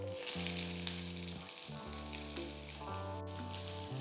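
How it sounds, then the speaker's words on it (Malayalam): Garlic, onion and shallots sautéing in a pan with green chilli, a constant close sizzle and crackle of frying that runs throughout, with no voices. "ഇത്ര ഇൻഗ്രീഡിയൻസ് ഒന്ന് വഴറ്റിയെടുക്കാം."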